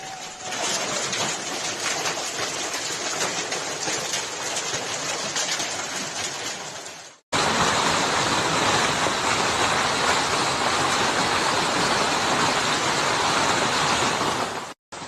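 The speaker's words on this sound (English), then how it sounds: "Heavy rain has caused flooding in the city." Steady, loud rushing floodwater roars without pause after heavy rain in Mecca, a dense torrent through city streets, with a brief cut partway through.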